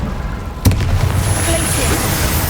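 A fire spell is cast in the video game Hogwarts Legacy: a single sharp burst of flame, then a sustained low roar and rumble that carries loudly over game ambience to the end.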